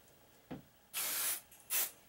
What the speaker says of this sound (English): Okay, so now you want to spray all around.